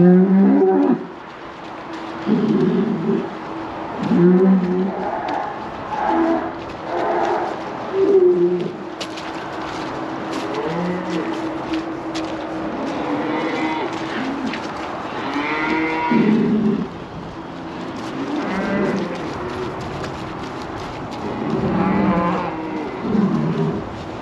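Cattle, bulls and cows loading in, mooing and bellowing repeatedly over several seconds, some calls close and loud, others farther off, with steady farm background noise and no talk.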